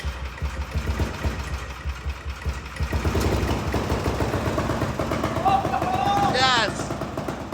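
A supercharged miniature trophy truck engine idles with a rapid, knocking chug that grows louder and steadier partway through, and a voice speaks briefly over it near the end.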